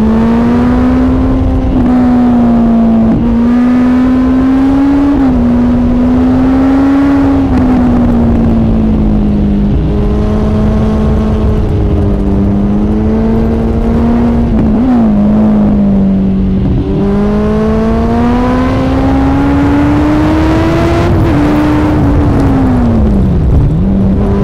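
A Kawasaki Ninja ZX10R sport motorcycle, rated at 200 horsepower, accelerates hard with a loud, sustained engine howl that climbs in pitch, dips at each gear change, then climbs again, heard close and alone.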